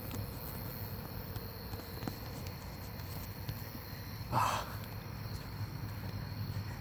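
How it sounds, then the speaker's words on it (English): Cicadas drone in a thin, steady buzz at night outdoors, a continuous background hum with one brief louder rustle partway through and no talking. "Oh my gosh, the cicadas."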